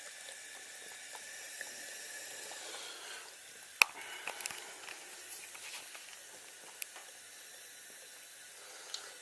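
Faint running tap water trickling steadily into a sink as a cat plays in the stream, with a few small splashes and taps.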